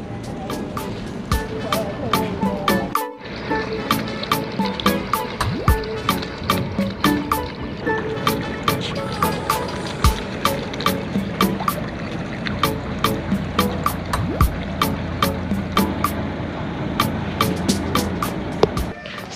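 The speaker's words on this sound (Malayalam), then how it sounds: "ഇവിടെ ഇപ്പോൾ 2 ബോട്ട് പോകുന്നുണ്ട്." Two boats pass on the backwater at Kainakary in Kuttanad, Alappuzha, with a steady engine drone, water wash and a rhythmic ticking. The sound is near and fairly loud, and voices are heard faintly underneath.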